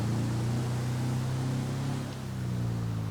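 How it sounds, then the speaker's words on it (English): A Volkswagen bus engine in GTA 5, driven offroad at full power, gives a steady low droning hum under a constant broad hiss, with no voices. "Just listen to that engine, man. They did such a good job. That is exactly like the real thing."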